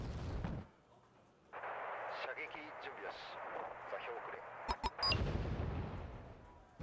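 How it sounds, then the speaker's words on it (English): Artillery barrage in a video game: a heavy blast opens, then a lull with a faint low hum and scattered distant rumbles, before a cluster of sharp, loud impacts and a final roaring explosion. "this guy's artillery is fucking consistent"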